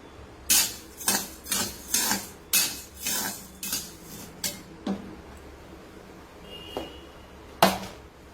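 Metal utensils clink and scrape against a pan while jowar is roasted. There are about a dozen sharp strikes in an irregular rhythm, close by, fairly quiet and with no talk.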